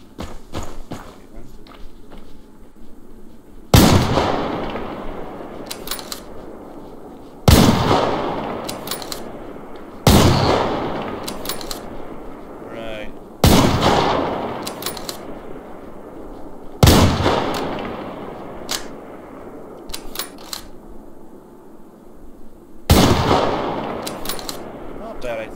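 Rifle shots ring out in the online shooter Survarium, six loud, sharp single reports spaced a few seconds apart, each with a fading echo tail, while someone talks over them throughout.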